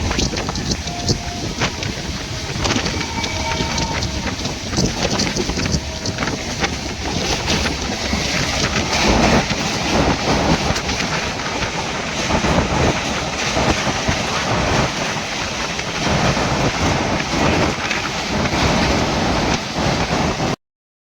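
Continuous rumbling and rattling from inside a moving, crowded passenger train bound for Mumbai, a dense steady roar with clanks and creaks throughout.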